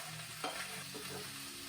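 Onions, ginger, cumin and mustard seeds are tossed and stirred in a hot pan, giving a low steady sizzle with a brief scrape of stirring in the middle and no voices.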